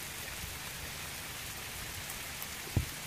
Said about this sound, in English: it's pretty decent rain.